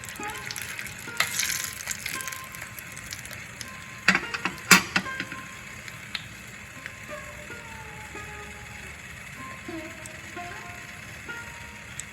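Chili fries in hot oil for a bitter moong dal with bottle gourd, giving a continuous close sizzle with scattered sharp crackles and pops. A brief cluster of louder spatters comes in the middle.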